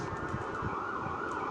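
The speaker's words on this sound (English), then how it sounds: "That is the sound of sirens" A steady wailing siren heard from inside an apartment fills the background, droning continuously without breaks and sounding somewhat distant.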